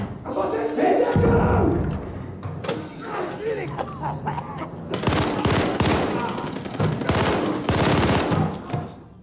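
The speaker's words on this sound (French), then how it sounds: "Je lance une grenade." A grenade goes off in the Call of Duty Vanguard video game, a sudden loud broadband blast about halfway through that rolls into dense rattling gunfire, with earlier muffled combat noise and voices beneath.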